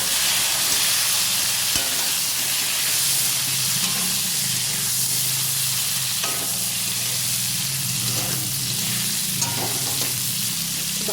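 Pointed gourd and potato pieces sizzle steadily in hot fish-frying oil with cumin and dried chillies, a continuous loud crackle with occasional stirring scrapes and no voices.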